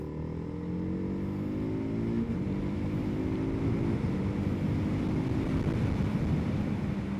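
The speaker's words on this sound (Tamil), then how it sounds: "இப்போது அர்பன் மோடில் ஒரு சின்ன புல் கொடுத்து பார்க்குறேன் 3rd கியர்லேருந்து" A TVS Apache RR 310 motorcycle pulls hard from third gear in urban mode, its engine note climbing steadily in pitch as it accelerates. The engine roars loudly and continuously, heard close and alone with no talking.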